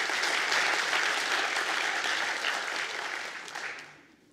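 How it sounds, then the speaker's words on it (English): An audience at a university Three Minute Thesis event claps in sustained applause that holds steady for several seconds before fading out, with no speech over it. "A round of applause for Dinah."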